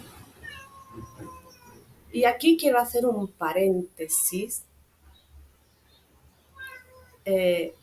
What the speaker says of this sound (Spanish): Está mi gatito aquí, si le oís, está pidiendo mimitos